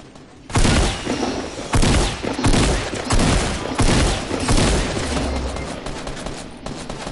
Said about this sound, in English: Someone's getting sniped.